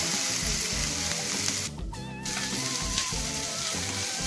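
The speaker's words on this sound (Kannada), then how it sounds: "ಸ್ವಲ್ಪ ಗೋಡಂಬಿ, ಇದನ್ನೆಲ್ಲ ಚೆನ್ನಾಗಿ ಗೋಲ್ಡನ್ ಬ್ರೌನ್ ಕಲರ್ ಆಗೋವರೆಗೂ ಫ್ರೈ ಮಾಡ್ಕೋಬೇಕು" Cashews frying in a pan until golden brown for paneer masala, giving a steady, loud, continuous sizzle with a brief dip partway through.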